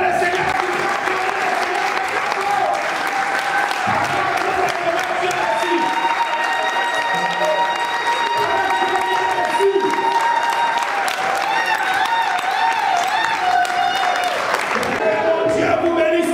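A church congregation applauds and cheers in praise of the Lord, with sustained clapping and joyful shouts filling the hall while a voice and sung tones carry over the crowd.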